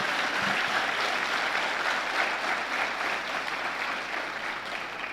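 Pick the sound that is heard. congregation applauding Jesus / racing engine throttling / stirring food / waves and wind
congregation applauding Jesus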